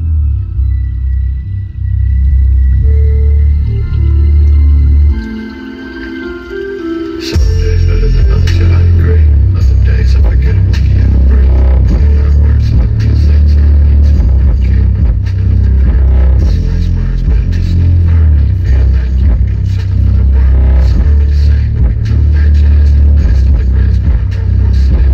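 Subwoofers installed in a Chevrolet S10 pound out heavy, sustained bass, with a short drop near the start before the loud low-end rumble returns and carries on steadily to the end.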